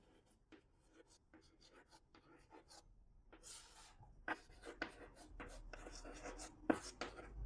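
Chalk or marker writing on a classroom board during a class 10 chemistry lesson, heard as a series of short scratchy strokes in irregular bursts, growing louder toward the end, with quiet voice sounds between.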